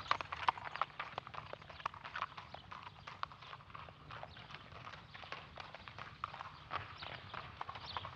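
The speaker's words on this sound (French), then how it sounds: "Papa montait un nouveau cheval, Mystère, un demi-cent pour la chasse à cour" Horse hooves clip-clop in a steady walking rhythm, close and moderately loud, with a low hum underneath.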